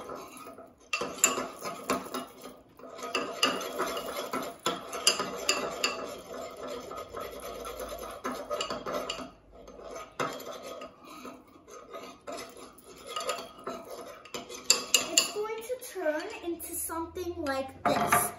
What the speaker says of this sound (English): Now, with our spoon, we are going to stir this together.